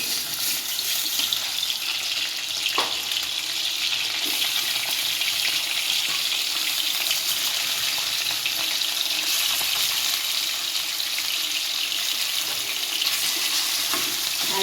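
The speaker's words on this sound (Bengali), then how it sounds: "একে একে একটা একটা করে আমি মাংসর পিসগুলো ভেজে নেব" Chicken pieces frying in hot oil give a steady, dense sizzle and crackle that holds at an even level throughout, close and unbroken, with a few faint clinks and no voices.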